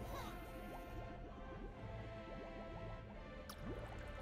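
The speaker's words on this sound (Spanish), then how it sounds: "Onda de choque de salpicadura." A splash shockwave attack in Mario + Rabbids Sparks of Hope, heard as squishy, watery drips and gurgles layered over steady game music, with a brighter splashy burst near the end.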